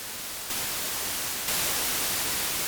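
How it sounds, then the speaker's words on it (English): The noise generator of a Kawai SX-210 analog synthesizer puts out a steady broadband hiss that steps up twice in loudness, with no voices. "There is noise on board as well."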